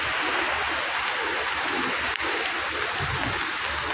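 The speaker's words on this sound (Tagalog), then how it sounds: "Medyo parang humina na po ng konti yung alon." Waves on Manila Bay at Navotas roll in as a continuous broadband wash of surf, loud and close, with a brief dip midway and no talking.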